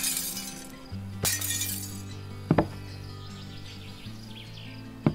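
Glass breaking in the video game Rising World, a few sharp shattering crashes with clinking shards, each separate, over a steady low in-game musical drone.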